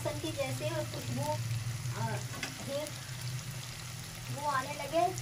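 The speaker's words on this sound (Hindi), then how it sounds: "एक मिनट तक अदरक लहसुन को फ्राई करेंगे।" Ginger garlic paste frying in a pan for qeema, a steady low sizzle running under a voice talking throughout.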